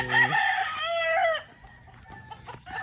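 A bantam rooster crows loudly and close by in one drawn-out call among backyard chickens, followed by softer clucks and farmyard sounds.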